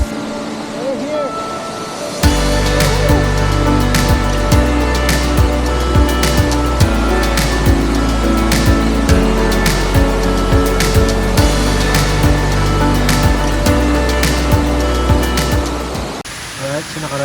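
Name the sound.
Kaparkan waterfall flowing, Abra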